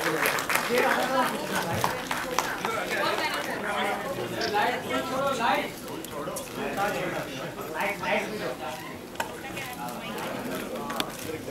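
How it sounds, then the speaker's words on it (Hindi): Audience applause at a film trailer launch event, a sustained dense patter of clapping from a crowd that lasts throughout, with voices and chatter mixed in. "जोरदार तालियां हो जाए फॉर"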